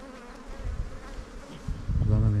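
Honeybees buzz around an opened beehive with pollen-filled frames, a dense close drone that swells and grows louder toward the end, with no speech.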